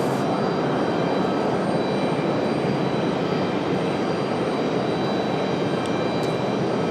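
An MD-11 jet airliner at Raleigh-Durham International Airport makes a loud, steady broadband roar that holds unbroken for several seconds with no voices.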